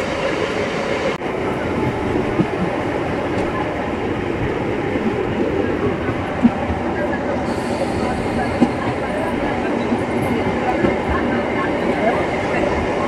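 A passenger train running between Palakollu and Rajahmundry, heard from on board as a continuous loud rumble and rattle of wheels on track, with occasional sharp clanks and some background voices.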